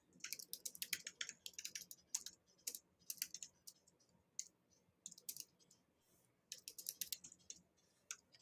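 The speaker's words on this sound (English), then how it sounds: "Okay, what are you typing?" Someone types on a computer keyboard in a quiet room, with bursts of quick, crisp key clicks separated by short pauses, close and fairly soft.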